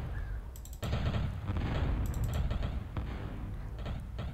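Gatling guns in a real-time strategy game fire sustained bursts of rapid mechanical gunfire, dense and continuous after a brief lull, heard alone without talk.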